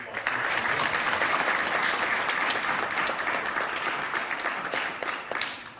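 An audience at a data science spring school applauds the organizers, a steady, full wash of clapping from many hands that holds evenly and fades slightly toward the end.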